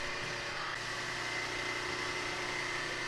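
An 18-inch disc sander runs while sanding a 3/8-inch steel plate, producing a steady, faint motor hum and whir that stays even throughout.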